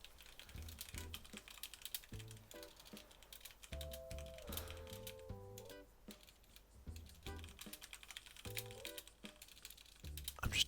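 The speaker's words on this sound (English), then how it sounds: "I'm just typing it now." Rapid bursts of clicking on a computer keyboard, irregular clusters of keystrokes with short pauses, close and fairly quiet, over soft game music.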